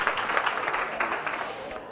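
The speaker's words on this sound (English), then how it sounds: "Give yourselves a round of applause." A conference audience claps for itself after a group exercise, a fairly loud burst of dense clapping with a few stronger individual claps standing out, sustained throughout and close by.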